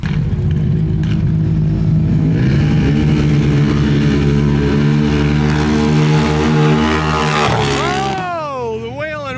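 Stage 6 Polaris RZR Pro XP side-by-sides drag racing down a strip, engines droning loud and steady with rising harmonic whine, then a sharp pitch-swooping rev as they finish, crowd-level voices faintly underneath.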